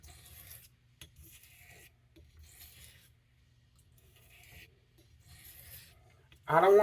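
A Boker C75 knife blade is drawn across a hone in about five slow, soft rasping strokes separated by near silence. A sudden louder noise comes right at the end.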